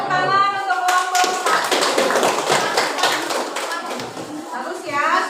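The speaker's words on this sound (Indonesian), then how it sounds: "Ya, beri tepuk tangan untuk kelompok" Schoolchildren in a classroom clap for a group after its presentation, quick close hand claps with children's voices and brief talk mixed in at the start and end.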